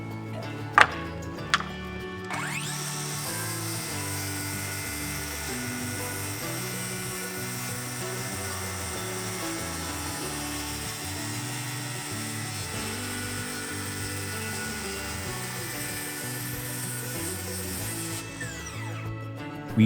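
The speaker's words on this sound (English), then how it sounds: "First step was to trim off the tops of the cedar pickets so that it was more clean and squared off." Power tool trimming the tops of cedar fence pickets for building raised garden beds, a loud steady buzzing whine running nearly continuously after a few sharp clicks at the start, stopping near the end.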